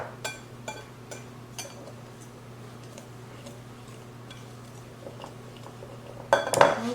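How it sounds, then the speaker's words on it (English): A spoon clinks and scrapes in a bowl while molasses is stirred into sugar, quiet rhythmic taps over a low hum, ending in a louder clatter. "And you just add the molasses to the sugar and stir it up really good."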